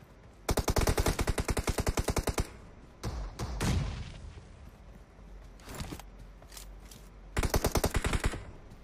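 Automatic gunfire in PUBG Mobile during a team scrim, with two rapid bursts of shots near the start and end and scattered single shots and thuds between, fairly quiet overall.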